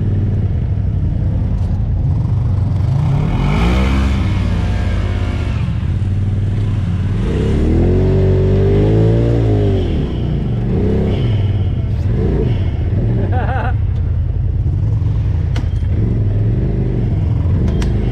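Kawasaki KRX 1000 side-by-side on a trail, engine loud and close, revving up and down in rising and falling surges with rumbling clatter throughout.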